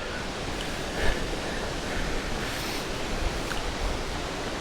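Rushing water of Hidden Creek along a hiking trail in the Pacific Northwest, a steady, loud broadband roar with no voices over it.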